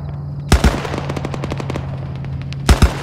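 Automatic gunfire in a military video game: two loud, close bursts bracket a stretch of quieter, rapid repeated shots in the distance, with low engine-like rumble underneath throughout.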